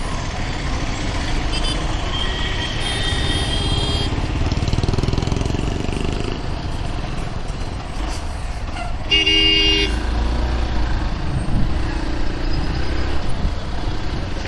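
Heavy road traffic in Kochi, with a dense continuous rumble of cars, trucks and motorcycles close by and several short horn toots standing out above it, the longest and loudest coming partway through.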